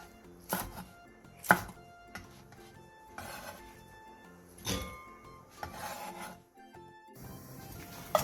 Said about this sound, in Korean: 꽈리고추 한 줌 반을 크기에 따라 2에서 3등분으로 잘라주세요